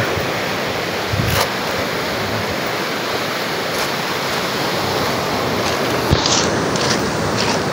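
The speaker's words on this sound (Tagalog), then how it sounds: "delikadong maligo kasi sunod-sunod yung alon." Continuous roar of Pacific Ocean surf, waves breaking steadily without pause, loud and close, no voices.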